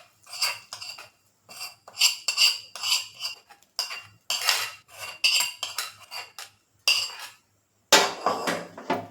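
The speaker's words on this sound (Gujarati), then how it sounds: "બટાકામાં એડ કરી અને બરાબર મિક્સ કરી લેશું" A spoon stirs garlic chutney paste into potatoes for lasaniya bhungla bateka, giving close, repeated clinks and scrapes against a metal pan in uneven bursts with short pauses, no talking.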